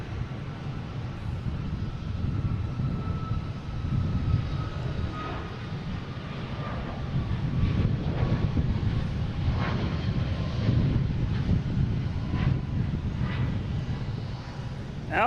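A Southwest airliner, flight 858 bound for Baltimore Washington International, roars at Boston Logan airport: a steady broadband jet rumble with wind buffeting, swelling slightly as it moves, continuous and fairly loud.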